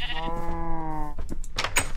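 A Minecraft sheep gives one clear, close, drawn-out bleat, followed by a few short scuffling game noises.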